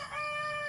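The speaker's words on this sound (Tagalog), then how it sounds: "wait lang, may manok na naman." A rooster crows in a single sustained cock-a-doodle-doo, loud and close, filling the short moment with no talking.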